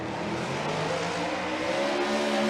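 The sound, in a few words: Formula Drift car spinning out, tire squeal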